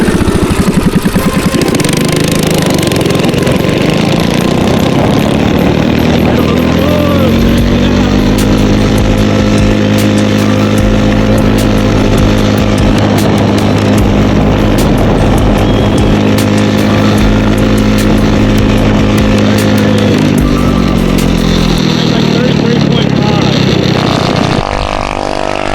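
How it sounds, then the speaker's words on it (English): A drift kart's small engine at full throttle on a top-speed run, tires at about 14 PSI, holding a loud, steady, rising drone for most of the pass before easing off near the end. "We're going to do a couple runs of speed to see how fast we can get it to go."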